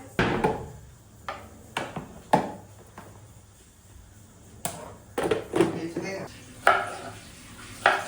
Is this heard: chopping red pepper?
yes